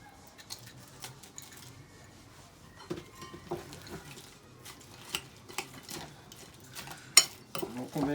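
Stuffing mixed with toasted croutons is stirred in a pan at home, soft scraping and light clinks of utensil against cookware repeating irregularly, fairly faint, with occasional sharper taps.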